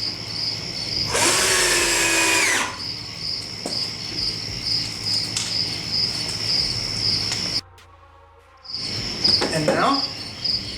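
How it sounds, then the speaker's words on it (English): A power drill sinks screws into the wooden lid of a sandbox with a folding bench, two short whirring runs over a steady outdoor insect chirr, fairly close, with no speech. "we're going to sink our last screws here"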